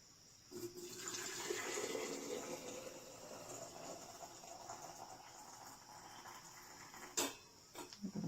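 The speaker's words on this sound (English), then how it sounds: "I'm going to fill this up, let that water stay there" Tap water rushes steadily into a glass canning jar being sanitized for canning potatoes, a continuous hissing fill lasting several seconds before a few clinks and knocks near the end, with no talking.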